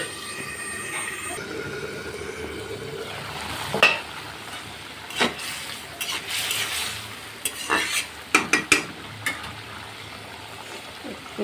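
Vegetable stalks being stir-fried in a pan for a taro-stem potato fish curry, with soft sizzling, then a run of spatula scrapes and sharp clacks against the pan that grows busier toward the end.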